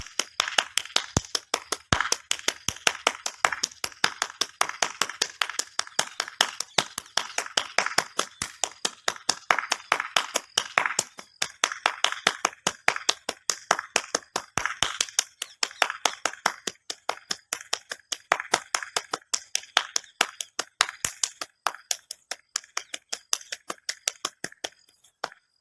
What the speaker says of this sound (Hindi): करेंगे एक और ताली आसन एक्यूप्रेशर के लिए